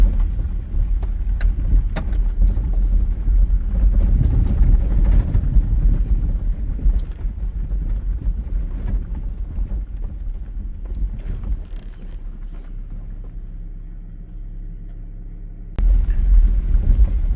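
An all-terrain vehicle runs outdoors in northwest Montana with a steady low engine rumble. Wind buffets the microphone, and the drone eases somewhat before surging back briefly near the end.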